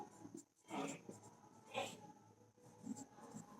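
Pen writing on paper during a spoken-English lesson, faint scratchy strokes in short bursts close by, quiet and sparse, with a murmur of a voice in the background.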